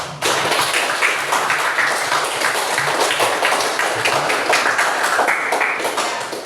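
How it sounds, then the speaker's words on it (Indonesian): Children in a classroom clap together in a dense, steady burst of hand claps that stays loud and unbroken for several seconds, close to the listener. "Coba sekali lagi tepuk tangan untuk adik-adik semua."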